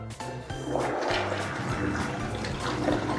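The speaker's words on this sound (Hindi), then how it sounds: "Just flush it." Toilet flushing away a flushable sanitary pad, a close, loud rushing gush of water that starts abruptly and keeps swirling steadily, with no talk over it.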